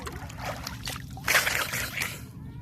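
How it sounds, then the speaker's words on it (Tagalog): Seashore water on Samal Island laps and sloshes gently in a soft, continuous wash, with a brief louder splash partway through and no clear speech. "Kita ninyo, nasa tabing dagat tayo."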